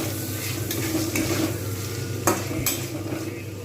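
Chopped onion fries in oil with whole garam masala, a continuous close sizzle broken by the scrape and clink of a utensil stirring the pan, with no one speaking.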